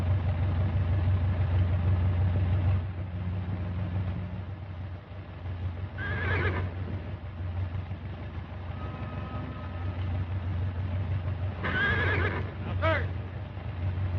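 A horse whinnies twice, loud and close, over the low rumble of an idling engine, with no talking.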